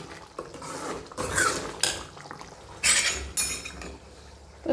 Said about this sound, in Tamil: இப்போது நம்ம கரண்டியாலேயே சன்னாவை மேஷ் பண்ணியாச்சு